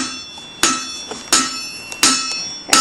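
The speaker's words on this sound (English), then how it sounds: "now we see Dad hammering something on the anvil" Metal hammered on a blacksmith's anvil in a forge shop: four sharp, ringing strikes spaced about 0.7 seconds apart, each leaving a bright metallic ring that decays between blows, close and loud.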